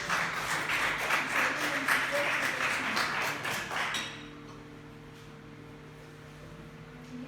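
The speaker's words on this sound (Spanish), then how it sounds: "Le damos un aplauso a la palabra de Dios." A church congregation applauds after a Scripture reading. The clapping is brisk and fills the room for about four seconds, then stops abruptly and leaves a quiet hall with faint lingering tones.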